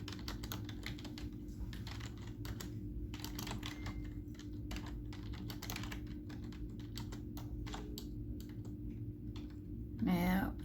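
Typing on a computer keyboard, close bursts of quick key clicks with short pauses between runs, over a low background hum, with a brief voice near the end.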